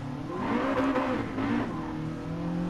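A naturally aspirated petrol engine in a Honda Integra Type R DC2 revs high and hard, its pitch climbing and falling in a loud, raspy wail, close by with no talking.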